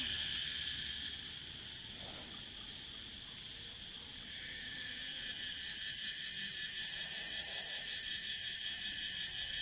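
Cicadas keep up a high, shrill buzzing drone from a short distance, with a pulsing rhythm that comes in strongly partway through.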